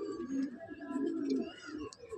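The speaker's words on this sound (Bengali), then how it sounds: "মাদি পায়রা এটা একটা" A female Madrasi pigeon in a loft coos in low, throaty, rolling phrases, steady and fairly close, repeating almost continuously with faint background noise.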